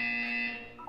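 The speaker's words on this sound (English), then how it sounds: "When you hear the buzzer, look up at the ceiling." Buzzer tone from the video game Portal 2, one steady harmonic electronic drone held for about half a second, then fading as a brief higher beep begins at the end; loud and close with no voices.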